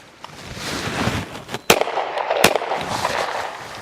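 Two sharp, loud cracks from a Smith and Wesson M&P Shield Plus pistol stand out about a second apart against steady outdoor range noise.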